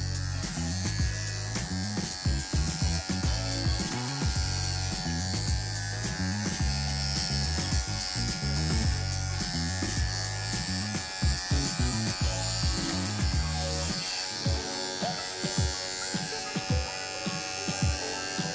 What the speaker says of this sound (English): So I want to shave right up to between the eyes